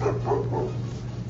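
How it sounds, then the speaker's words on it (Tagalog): A dog barks a few times nearby over steady low rumbling background noise outdoors after snowfall in Gainesville, Georgia, with a brief sharp sound at the end. "Hinahabol ako ng aso."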